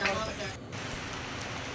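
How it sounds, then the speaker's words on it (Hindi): Heavy rain beats on a tarpaulin pandal, a dense, steady hiss of drops that stays loud and constant for the whole stretch. "काफ़ी तेज़ बारिश हो रही है। ऊपर तिरपाल तो लग चुका है।"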